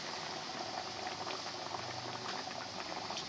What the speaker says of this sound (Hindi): अब मैं बाकी भी फ्राई करती हूँ